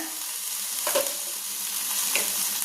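Cooked aval upma, a beaten-rice dish, being stirred in a pan over a low flame: a steady sizzle with two brief scraping stirs, close and fairly loud, with no talking.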